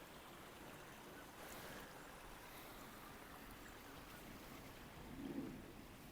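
Steady outdoor rain hiss on a Peak District moorland near water, a soft continuous wash of noise with a brief low rumble near the end, no voices.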